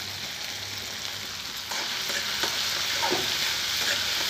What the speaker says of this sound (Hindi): तीन चार मिनट तक हम इसे अच्छी तरह से चलाएंगे।